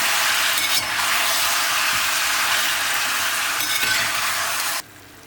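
Chicken sautéing in a pan for a home-style chicken curry, a loud, steady broadband sizzle with occasional faint stirring clinks, ending abruptly into near silence.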